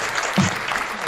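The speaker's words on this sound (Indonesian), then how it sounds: "tepuk tangan dulu untuk kita semua" Brief applause from a small group at a student discussion forum, a short burst of clapping with a voice briefly audible in the middle.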